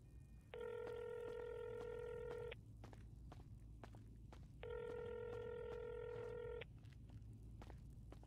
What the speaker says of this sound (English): I'm about to call him real quick